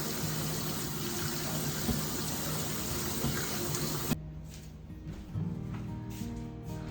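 Tap water runs loudly into a sink as green beans are rinsed and scrubbed, a steady close rush that cuts off abruptly, followed by quieter handling and drips.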